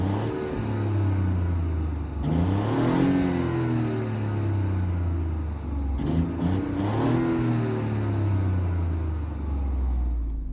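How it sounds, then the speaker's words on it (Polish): A 2019 BMW 318i F31 estate with a chiptuned three-cylinder engine, heard from outside on a cold day. It hums at a steady idle, with two short blips of revs swelling and falling back. "trzeba przyznać, ciekawie brzmi ten samochód"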